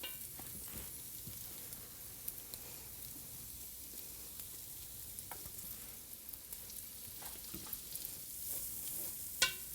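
Black bean chili ingredients fry in olive oil in a pot, giving a continuous crackling sizzle with occasional sharper pops and stirring sounds close by, and no talking.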